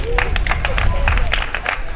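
Crowd at a foundation reception for a visiting delegation claps and makes noise together, a dense, steady wash of applause with murmuring voices mixed in throughout.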